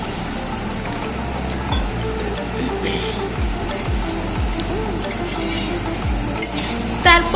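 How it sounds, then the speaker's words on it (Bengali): A spatula works through a mustard, eggplant and hilsa curry simmering with added water in a pan, making repeated scraping strokes against the metal over a wet bubbling sizzle. "তারপর আবারও নেড়ে ছেড়ে নিচ্ছি"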